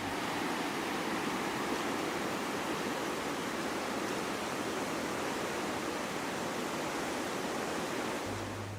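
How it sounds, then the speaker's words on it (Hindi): River water rushing continuously through Neelam Valley in Kashmir, a dense, loud, unbroken wash close by with no voices. "इस पूरे माहौल में दरिया का पानी ही नगमे सुना रहा है"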